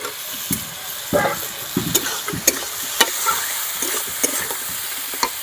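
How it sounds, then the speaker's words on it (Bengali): Spice paste and fried potatoes stir-fried in a pan for an egg dish, with steady close sizzling broken by repeated scraping and stirring strokes. "এবার আমি ভেজে রাখা আলুগুলো দিয়ে কষাবো"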